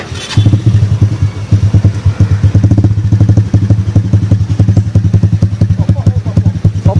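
A motorcycle exhaust idles loud and close, a rapid, steady low thumping pulse with clattery popping throughout.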